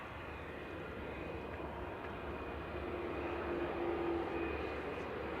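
An aircraft taxiing out at Manchester Airport gives a low, steady engine hum that swells slightly toward the end, faint and distant, with no voices.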